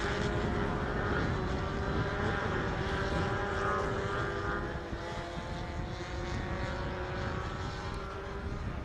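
Race cars powered by lightweight 1.3-litre Maruti Suzuki 4-cylinder engines at an Indian national car racing championship, a loud steady engine drone with no break, roaring on continuously with no talk.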